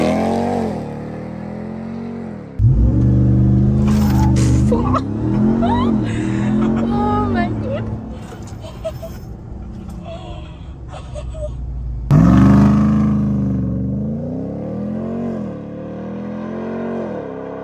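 A 2.7-ton pickup truck accelerating hard from inside the cabin, engine surging loudly with rising revs and gear changes, a brief lull, then another strong surge of acceleration.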